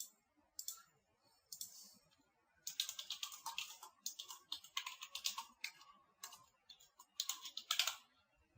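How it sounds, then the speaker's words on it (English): Fingers tap out text on a computer keyboard, quick clicking keystrokes arriving in short bursts with brief pauses between, close and fairly quiet. "So we'll type some dummy text."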